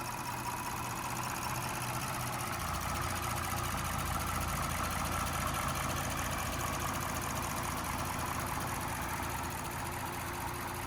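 A 2015 Lexus GS350 AWD's 3.5-liter V6 idles steadily and smoothly for the whole stretch, a constant low hum with no other sounds.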